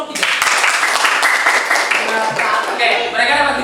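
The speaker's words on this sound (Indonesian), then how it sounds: "Oke, tepuk tangan untuk kelompok 3." Students in a high school classroom clap for a winning group, a dense, lively burst of applause mixed with voices and cheering that carries on throughout and tapers slightly at the end.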